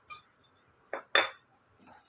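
A spoon stirs chilli powder, turmeric and curry chilli powder into tomato and onions in a metal pan, making a few quiet, separate metallic clinks and scrapes against faint background hiss.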